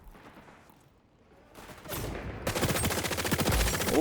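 Rapid P90 submachine gun bursts in the shooter game XDefiant, quiet at first, then a dense sustained volley of fast shots that stays loud to the end.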